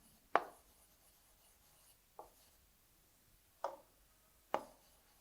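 Pen or marker strokes writing out an addition word problem for a class 3 maths lesson, heard as four short scratchy bursts separated by quiet gaps, close and fairly faint.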